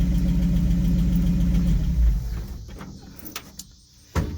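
A 1959 Chevrolet Bel Air engine idles with a steady, loud low rumble, then cuts out and fades, leaving a few faint clicks and knocks nearby.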